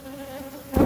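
Honey bees just after a swarm hum in a loud, steady drone close by, with a brief heavier burst near the end.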